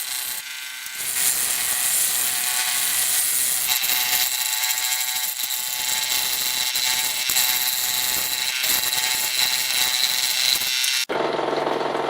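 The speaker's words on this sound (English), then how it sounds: "So you may be wondering why it's rattling and rolling and all this stuff, because it's off balance." A lathe turns an off-balance bowl of hard cured resin and wood, giving a loud, steady buzzing rattle that continues for about eleven seconds before cutting off abruptly.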